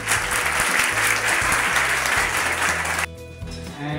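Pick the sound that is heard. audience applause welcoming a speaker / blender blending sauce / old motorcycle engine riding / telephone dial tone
audience applause welcoming a speaker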